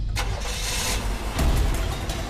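A car engine revs up close by and holds a steady, loud rumble as the car pulls away, with a short dip and then a surge of power.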